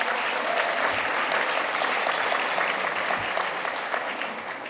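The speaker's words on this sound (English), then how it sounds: "You can clap for that." Audience applause at a Women's Hall of Fame luncheon: steady, dense clapping from a large room that carries evenly throughout and eases slightly at the close, with no voices over it.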